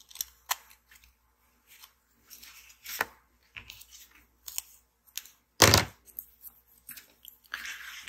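Sharp snips of scissors cutting paper, irregular and close, with quiet rustling between cuts and one louder crisp snip.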